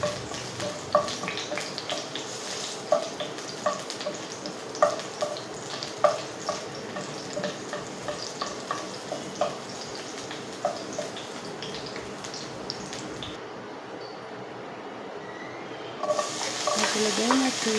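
Garlic browns in a pan for eggplant adobo, giving a steady background sizzle with repeated rhythmic taps and scrapes of a spoon stirring close up, and a louder burst of frying near the end.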